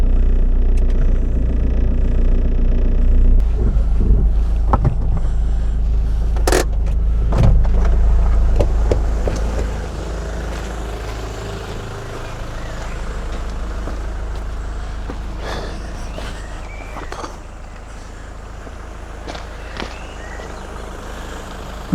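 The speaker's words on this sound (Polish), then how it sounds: "Jak na pierwsze cofanie z przyczepką samochodem nie jest źle." A car towing a trailer reverses on a rainy garden plot, its engine rumbling steadily and loudly close by, easing off halfway through, with a few clicks and knocks scattered over the drone.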